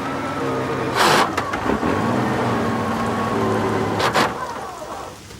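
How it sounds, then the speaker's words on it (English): Steady rain pours down in a wartime Italian setting, a constant dense hiss with a low background rumble and two brief louder gusts, heard alone with no voices. "Can you believe this rain?"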